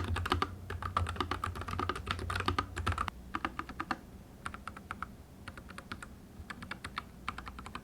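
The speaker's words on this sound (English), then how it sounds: "it makes it so much more enjoyable to actually type on my keyboard" Clicky keys clack in quick bursts of typing, with short pauses between runs; crisp and close, with no voices.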